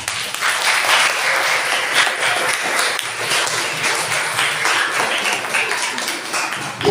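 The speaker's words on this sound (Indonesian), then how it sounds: "beri tepuk tangan" Audience at a school student council (OSIS) plenary session applauding a newly introduced committee chair, dense steady clapping from many hands that fills the room throughout.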